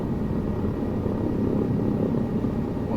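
Helicopter flying in Microsoft Flight Simulator 2024 over Saudi Arabia, a constant droning rotor and engine roar with a low pulsing thump, loud and unbroken throughout.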